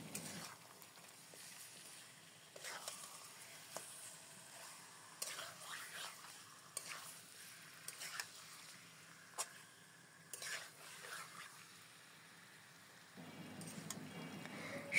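Marinated chicken sizzling and frying with chopped onion in a pan, quiet hiss with intermittent scraping strokes of a spoon stirring, a faint murmur in the background.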